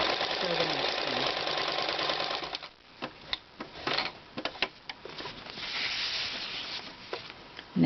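A sewing machine stitches bias strips for piping, running continuously and fairly loud for a couple of seconds, then giving way to short bursts of needle chatter and clicks.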